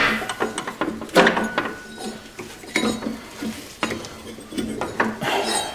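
A drive belt being worked off the pulleys of a Craftsman DYT4000 riding mower, with irregular rubbing, scraping and metallic clinks of handling and tools, close and intermittent, no talk.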